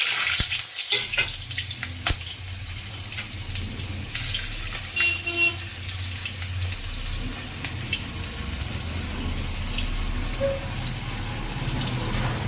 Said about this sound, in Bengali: তেলটা আমার গরম হয়ে গেছে এবার আমি পাঁচ ফোড়ন করে দিচ্ছি